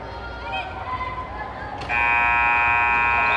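A loud, sustained electronic end-of-quarter buzzer at a basketball game cuts in sharply partway through, droning steadily over crowd noise and talking.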